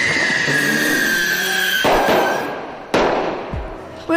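Rocket skates strapped with fireworks fire off: a sustained hiss ending in sharp pops and crackles, loud and close, with no talk.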